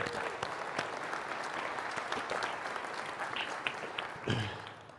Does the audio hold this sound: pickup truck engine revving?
no